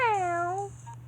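A single drawn-out cat meow from a video game, bright and clear with a falling pitch, set over a steady low background hum.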